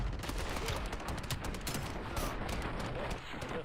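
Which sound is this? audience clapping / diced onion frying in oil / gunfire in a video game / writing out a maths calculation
gunfire in a video game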